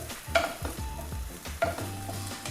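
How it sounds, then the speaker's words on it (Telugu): Tofu being stirred and mixed in a frying pan with chili powder and garam masala, soft sizzling under a few clanking scrapes of the spoon against the pan, close up, no talking. "టోఫుని కూడా వేసేసి మొత్తం మిక్స్ చేసుకోవాలి"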